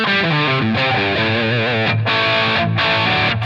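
Electric guitar through a Line 6 Helix with heavy distortion on a brighter, more cutting setting, playing a loud, continuous run of chords and single notes with brief gaps between phrases.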